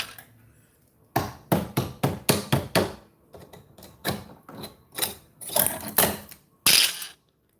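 A plastic piece is cut off a gas tank up close, giving a series of about a dozen sharp snapping clunks in uneven rhythm with brief pauses between the harder strikes.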